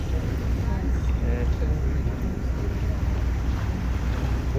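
A tour boat heading to the Statue of Liberty rumbles along with a steady low engine drone, heavy wind buffeting the microphone and faint water wash throughout, with no clear voices over it.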